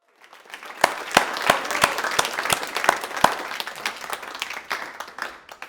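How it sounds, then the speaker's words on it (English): Applause builds from a few sharp, spaced claps into a fuller patter of many hands, then tapers off toward the end. "Can we get a round of applause for that right there?"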